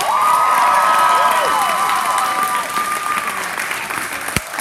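A crowd at a battle-of-the-bands awards event applauds and cheers for a band, loud sustained clapping with whoops and shouts close by, fading slightly toward the end.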